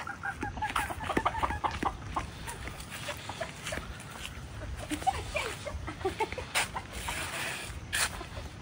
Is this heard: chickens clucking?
yes